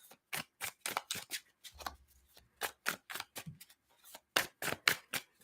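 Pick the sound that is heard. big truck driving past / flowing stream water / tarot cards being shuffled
tarot cards being shuffled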